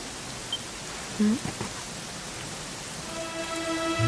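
Rain falls steadily in the role-playing game Dragon Quest XI, a soft continuous hiss with a few brief tonal blips and a sustained musical tone rising near the end.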